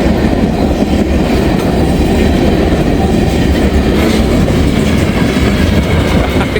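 A short Norfolk Southern freight train passing at night, a loud, steady, close rumble of wheels on rail with faint rhythmic clatter throughout and no voices.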